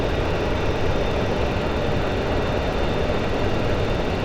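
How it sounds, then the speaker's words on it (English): Avro Vulcan jet engines in the X-Plane 11 flight simulator give a continuous, dense, loud roar that holds steady with no pauses. "Those engines kind of like slightly offset makes a beautiful symphony of noise."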